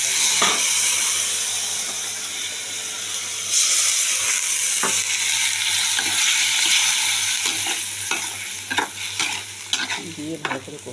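Spices and peanuts frying and being stirred in a pan, with soybeans to follow, give a steady loud sizzle broken by sharp scraping and clinking of a spoon against metal, with no voices.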